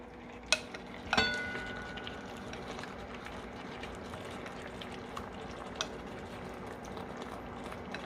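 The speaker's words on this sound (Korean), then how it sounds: "이제 양념을 넣고 한 10분간 졸여 보겠습니다" Tofu simmering in seasoning sauce in a pan, with a faint steady bubbling and two sharp clinks of a utensil against the pan near the start, then soft occasional ticks, no voices.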